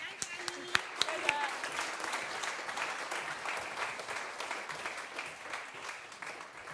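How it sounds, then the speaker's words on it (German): Audience applause for the jury at the Plattsounds band contest final in the Alte Polizei in Stadthagen, dense sustained clapping with a few sharp individual claps near the start, then gradually easing off. "Also einen großen Applaus für die Jury."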